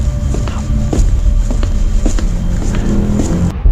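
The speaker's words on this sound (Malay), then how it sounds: "Bunyi footstep ni dah masuk dalam dom aku." Faint, irregular footsteps tap over a steady low background hum, a handful of soft thuds spaced across a few seconds.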